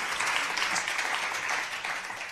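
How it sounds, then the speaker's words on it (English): An audience at a book event applauds after a reading, a steady, moderately distant patter of many hands clapping throughout the short stretch, with no talk over it. "They applauded."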